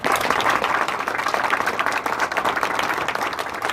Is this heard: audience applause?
yes